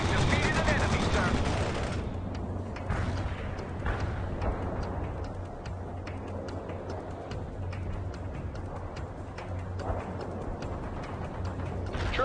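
Battlefield gunfire in the World in Conflict: Soviet Assault game, rapid ticking bursts of automatic weapons over a steady rumble, continuous and fairly loud, with occasional voices mixed in.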